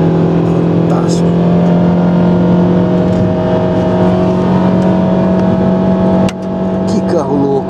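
Race car engine at the Interlagos circuit, an Alfa Romeo-type 12-valve engine of around 200 horsepower, droning loudly and steadily throughout, with a brief dip and change near the end as it passes, while people talk over it.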